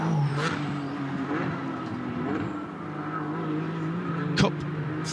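Race cars in a Cup 3 battle near the end of the Nürburgring Nordschleife during an ADAC 24H qualifying race, engines droning steadily at a distance with one sharper close pass near the end, under a faint voice.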